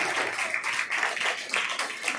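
Audience applause at an award ceremony, a steady wash of many hands clapping without pause, fairly close and evenly loud throughout, with no talk over it.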